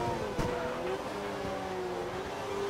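A Formula 1 car engine in the racing game F1 2012, on a qualifying lap in China, holds a steady high whine. The pitch shifts gently as the revs change, with one sharp transient near the start.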